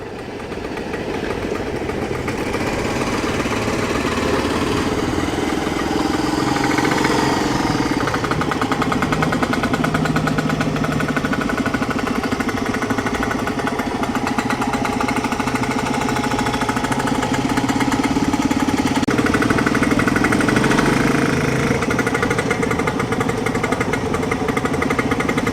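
A small two-stroke engine in a Messerschmitt bubble car runs steadily at a transport festival, a continuous buzzing, rattling drone held near and loud throughout, with no talk over it.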